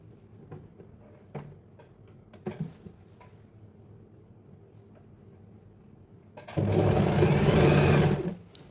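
A sewing machine stitches along a neatly folded lehenga frill edge, running in one loud, steady burst near the end, after a stretch of quiet fabric handling and faint taps.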